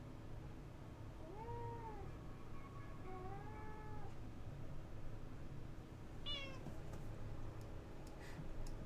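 A cat-like alien creature in the video game Revenge of the Savage Planet gives a few faint, drawn-out meows over a steady background hum, followed by a brief higher chirping call.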